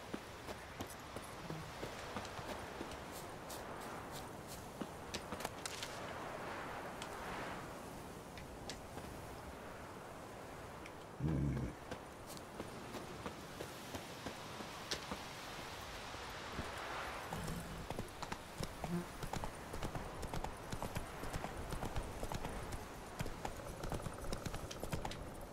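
Roach the horse galloping in The Witcher III, a quiet rhythmic run of hoofbeats beneath a soft wash of ambient noise with a few louder thumps.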